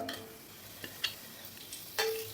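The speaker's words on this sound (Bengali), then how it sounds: "সাদা তেল কড়াইতে দিয়ে নিচ্ছি তিন টেবিল চামচ এর মধ্যে দিয়ে দেবো তেজপাতা" A bay leaf sizzles in three tablespoons of hot white oil in a wok, a quiet steady frying hiss broken by a few small ticks and one stronger crackle near the end.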